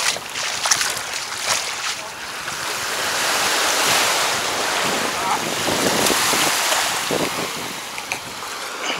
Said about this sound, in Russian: А сегодня такое легкое волнение. Ну, приятно, ветерок дует, освежает.